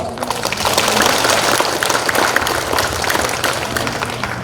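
A hall full of residents at a Seosang township assembly in Hamyang County claps in a dense, steady burst of applause that stays loud and even throughout, with faint voices mixed in.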